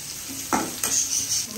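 Shrimp tipped into a pan of fried chopped onions in hot oil, a brief burst of sizzling as they hit the pan, followed by a steady frying hiss and a stir.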